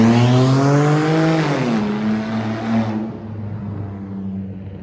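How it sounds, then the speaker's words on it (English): A Porsche Boxster with a loud, rough aftermarket exhaust drives past close by, its engine note rising then falling away as it recedes, a strong harmonic drone fading over several seconds. "It's a noisy ass Porsche Boxster."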